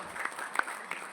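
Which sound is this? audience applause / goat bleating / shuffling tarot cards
audience applause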